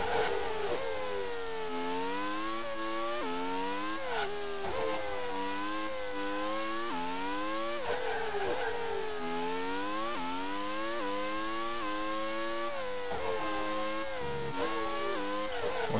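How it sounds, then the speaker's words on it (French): A Ferrari V12 race car in the PC racing game Grand Prix 2 wails steadily, its pitch rising through each gear and dropping sharply at every shift, loud and continuous for the whole stretch. "On va dépasser la SimTech avec notre puissance du Ferrari V12 qui a un son de V10."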